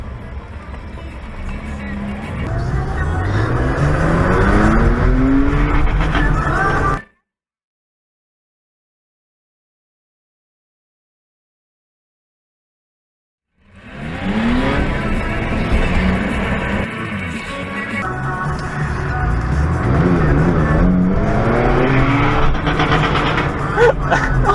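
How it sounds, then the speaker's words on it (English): A car engine revs hard between traffic lights on Portland streets, rising and falling in strong surges that press toward the rev limiter in first gear, with talk over it. A long silent gap breaks the revving partway through. "he was just going between traffic lights, just absolutely hammering it"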